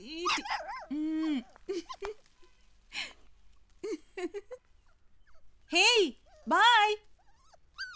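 A dog barks and yelps close by in short bursts separated by pauses, ending with two loud, drawn-out barks.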